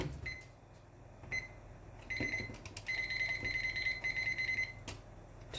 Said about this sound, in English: Set yourself a timer.